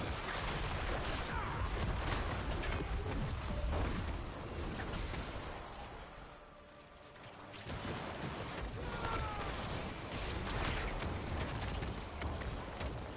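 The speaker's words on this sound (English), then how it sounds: "wait for the explosion" Explosions in the video game Diablo 4 during Necromancer play, a dense, crackling barrage of blasts and bursts that holds loud, dips briefly in the middle, then surges back and continues to the end, with no talking.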